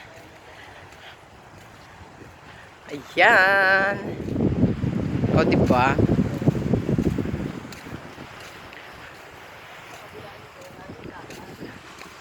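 Wind-blown seashore ambience with steady breezy rush and surf on the beach, someone talking over it for several seconds midway, then the open wind and water carry on alone.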